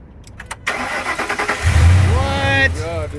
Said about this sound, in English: Babe, start the truck.